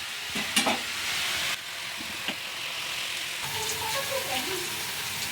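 Vegetables fry uncovered in an open pan for a festive veg thali, a steady sizzle broken by scraping stirs; at the end one voice talks quietly over the cooking.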